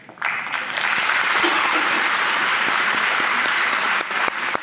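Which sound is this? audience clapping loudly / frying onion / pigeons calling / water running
audience clapping loudly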